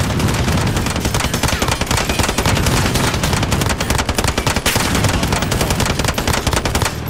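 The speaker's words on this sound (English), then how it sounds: "Oh, that thing's shooting at me." Rapid gunfire aimed at the player in a video game, dense bursts of automatic shots rattling continuously and loudly, with no talk over them.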